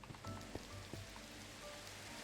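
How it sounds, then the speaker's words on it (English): Steady Minecraft rain hisses evenly across the whole stretch as a broad wash of falling drops, with a few faint clicks and tones on top and no one speaking. "so what if we make it rain?"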